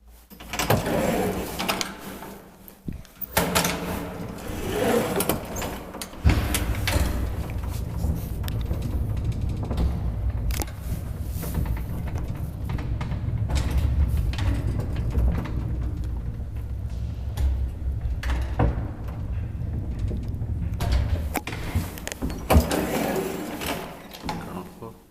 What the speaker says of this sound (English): That is the first 1957 Hissinhuolto elevator that I have been.